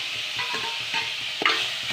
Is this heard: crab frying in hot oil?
yes